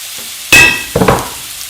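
Two onions hit hot olive oil in a pan, giving a sudden loud sizzle, then a second burst of frying as more goes in, fading to a softer hiss.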